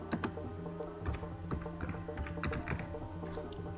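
Keys on a computer keyboard clack in quick, uneven bursts of taps, close and distinct over a steady low background hum, with no talking.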